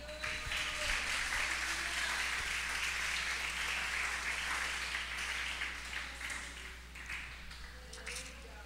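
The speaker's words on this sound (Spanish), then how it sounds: "démosle un aplauso al Señor" A church congregation at an evangelical service claps together, a steady, moderately distant applause that holds for several seconds and gradually fades, over a low hum.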